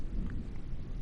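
Thunder in a video game: a low, continuous rumble of moderate loudness, steady and brief with no sharp crack.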